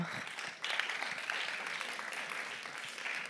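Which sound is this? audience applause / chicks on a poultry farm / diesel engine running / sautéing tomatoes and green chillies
audience applause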